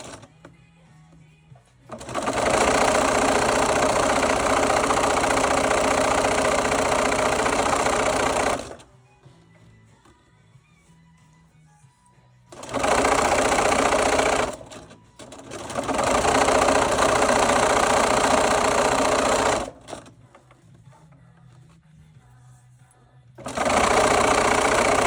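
Sewing machine running a zigzag stitch while gathering fabric, in three long steady whirring bursts separated by quiet pauses, close and even-paced.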